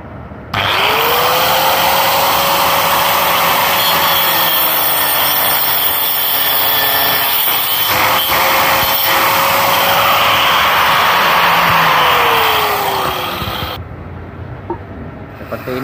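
A Makita 9553B 4-inch angle grinder fitted with a 40-tooth wood blade screams loudly and close as it cuts through wood for about thirteen seconds, its pitch dipping under load before it shuts off into quiet.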